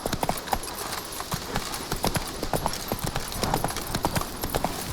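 Geralt's horse Roach gallops in The Witcher 3, giving a quick, steady run of hoof clip-clops that carries on alone from start to finish.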